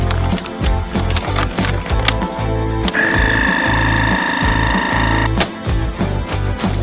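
A vacuum sealer pulls air from a bag of potato chips, a steady machine drone with a higher whine rising midway, running loud and close throughout.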